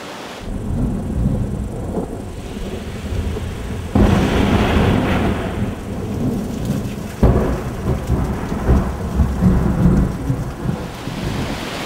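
Thunderstorm over the Suze river valley: steady heavy rain hissing throughout, with loud rolling thunderclaps breaking in around four and seven seconds, no voices.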